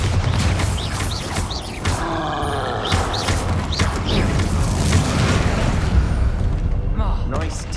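A Bombarda explosion spell booms in the video game Hogwarts Legacy during a troll fight, with heavy thuds, creaks and grunts, and a voice heard amid the loud clash.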